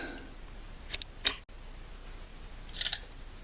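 A few crisp, quiet snips come close together, then another pair after a pause, as heater hoses for a school bus are cut to size.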